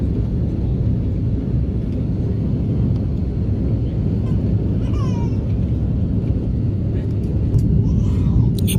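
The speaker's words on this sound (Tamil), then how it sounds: "இப்போ ரொம்ப தூரம் மேலே போயிட்டுது பாருங்கள் விமானம்." An airplane climbing after takeoff gives a steady, loud low rumble that holds evenly throughout, with no distinct change in pitch.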